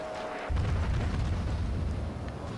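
A heavy booming salvo of naval guns firing AP shells in World of Warships, a deep rumbling blast that rolls on and fades over a couple of seconds.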